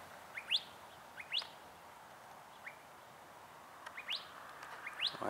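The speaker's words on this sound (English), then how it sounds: "See that bird over there making that noise? That's a, pretty sure that's a cactus wren." Several short, harsh calls of a cactus wren ring out at intervals over a faint outdoor hiss, moderately distant.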